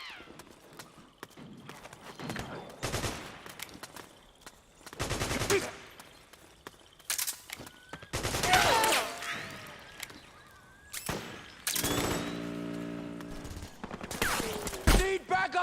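Suppressing gunfire in Metal Gear Solid 4: loud, repeated bursts and single shots in uneven clusters, with one stretch of rapid automatic fire, over shouting voices and battle noise.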